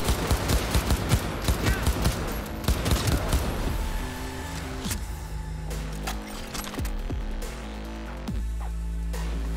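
Dense rapid gunfire from Cyberpunk 2077 gameplay rattles loudly for several seconds, then thins into scattered bursts and heavy thumps over a low throbbing game hum, with no talking.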